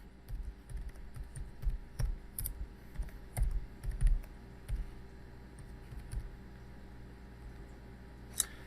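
Computer keyboard being typed on to enter a password, a quiet, irregular string of soft key clicks with uneven pauses, ending on one sharper keystroke.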